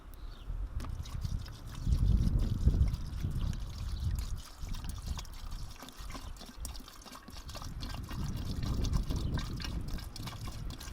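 Water pours and trickles steadily for several seconds while making homemade juice, a low gurgling stream that swells and eases, close by with no talking.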